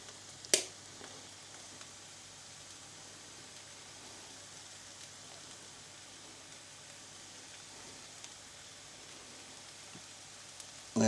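Aubergine sprinkled with oregano frying in a pan, giving a steady, soft sizzle that runs evenly throughout with a brief tap near the start and another at the end, no voices.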